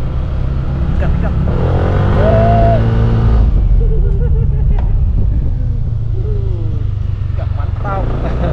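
A Yamaha NMAX motor scooter engine revs and accelerates up close, its pitch rising and falling, with a person talking over the steady engine noise.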